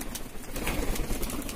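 A red-ringed Surkha pigeon coos softly and close, a short low murmuring call over faint background noise.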